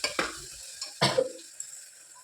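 Tomatoes frying in a pan while being stirred, with a soft sizzle and a few scraping strokes around a quarter second and one second in, the sizzle dying away toward the end; no voices.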